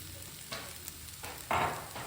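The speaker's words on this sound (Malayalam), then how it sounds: "നമ്മളൊരു ഇച്ചിരി ലേശം സോസ് ഒഴിച്ചു കൊടുക്കും." Sauce is poured into a soya bean roast gravy sizzling in a pan. A faint, quiet sizzle flares into a short, brighter hiss as the liquid lands, then fades back.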